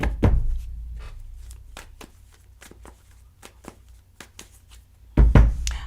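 Tarot cards shuffled by hand in a series of crisp, quick riffling taps and thumps, some louder knocks at the start and end, with no talking over them.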